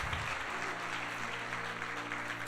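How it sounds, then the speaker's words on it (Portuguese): A church congregation at a prophetic worship service applauds in praise, a steady wash of many hands clapping that holds at an even level throughout, with a low tonal hum underneath. "Esse aplauso é para Jesus."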